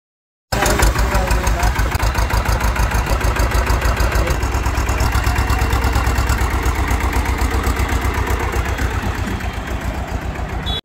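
A Massey Ferguson diesel tractor engine idles steadily with a rapid, regular chugging throb, loud and close, running without pause throughout.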